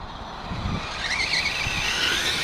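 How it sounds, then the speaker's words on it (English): An Axial Ryft RC car's electric motor winds up at wide open throttle, a rising whine building over steady rumble, fairly close and alone without talk. "Got a little wide open throttle there."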